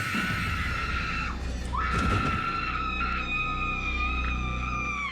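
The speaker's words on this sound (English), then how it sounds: "this girl gives quite the scream, which is a very classic horror movie scream" A girl lets out a classic horror-movie scream in Buffy the Vampire Slayer, loud and shrill, breaking off briefly partway through before surging again into a long sustained cry.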